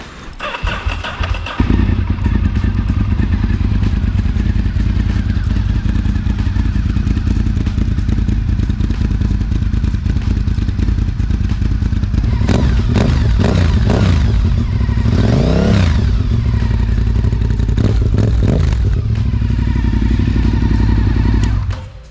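A motorcycle engine cranks and fires up, then settles into a loud, throaty idle close by, with a few blips of the throttle later on.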